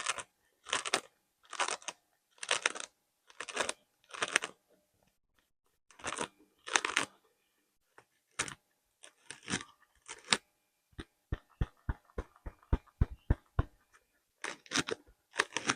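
Repeated close-up tapping and clicking on hard objects, in clusters of sharp hits, then a fast run of light evenly spaced taps, with no talking.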